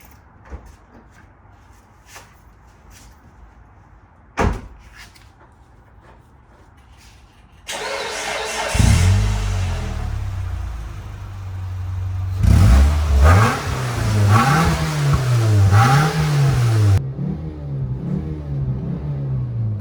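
A 2006 Mitsubishi Lancer engine cranks and fires after a few quiet clicks, then revs up and down several times in rising and falling surges, loud and close, before settling back.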